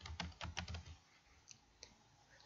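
Computer keyboard keys clicking in a burst of quick typing strokes, followed by a few isolated, sharper taps such as a space bar press, close and fairly quiet with no talking.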